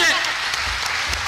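An audience at a Taipei crosstalk comedy show claps steadily after a sung number, a dense, even patter of applause that carries through the short stretch.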